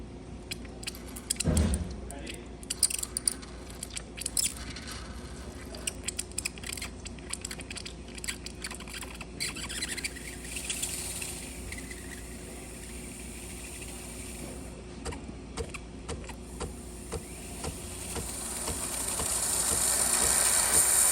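The steam wand of a red Breville Barista Express espresso machine hisses steadily with small clicks and rattles, the rushing noise swelling louder toward the end.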